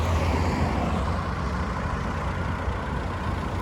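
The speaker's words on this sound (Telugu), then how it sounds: "సో దానివల్ల ఇంత ట్రాఫిక్ ఉంది" Heavy traffic on the Chennai–Trichy highway near Villupuram: a dense, steady roar of trucks, buses and car engines rumbling close by, unbroken throughout with no voices.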